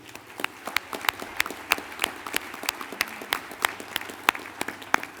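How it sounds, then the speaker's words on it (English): Scattered, moderately quiet clapping from an audience at a tribal nations address, individual claps distinct and irregular rather than a dense roar, with little talk. "let's give them a round of applause to know that they are not unappreciated"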